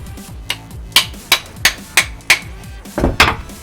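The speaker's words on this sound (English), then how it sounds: "That's a serious hammer." A heavy Japanese carpenter's hammer strikes a hard surface about eight times in a steady, evenly spaced series, each hit a sharp, close, ringing knock, ending with a couple of quicker overlapping taps.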